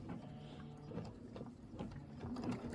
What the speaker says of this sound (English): Let it do that pretty decorative stitch.